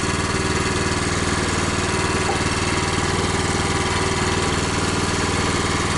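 A 2017 Honda HSS1332ATD track-drive snowblower engine runs close by with an even, throbbing idle drone that stays at a constant level throughout, with no talking.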